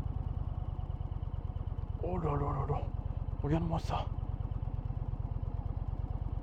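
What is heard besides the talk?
Indian Challenger tractor engine at about 1000 rpm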